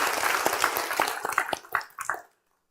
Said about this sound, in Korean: 우리 박수 한번 해주시죠.